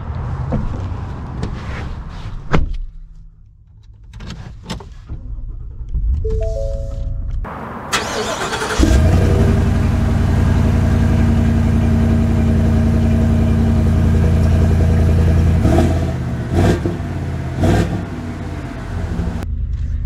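Ford Super Duty 7.3L diesel truck engine idling with low rumble, then a loud start-up or rev around eight seconds into a steady, close, droning run with small fluctuations, no speech.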